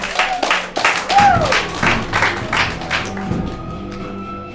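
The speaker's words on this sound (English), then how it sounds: "Let's give a round of applause." A comedy-show audience claps and applauds, a burst of scattered hand claps building then tapering off over a few seconds, with faint voices mixed in.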